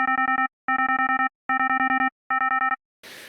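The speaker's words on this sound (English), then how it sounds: "I'll leave it on a sine wave in here, and I'm going to wave fold it" A buzzy, harmonically rich sine-wave synth tone, wavefolded, pulses in four rhythmic, stuttering bursts, then ends with a short hiss of noise.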